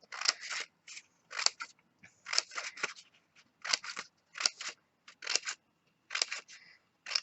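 Scissors snipping paper for giant paper flowers, a steady run of crisp close cuts in short bursts separated by brief pauses, loud and alone without talk.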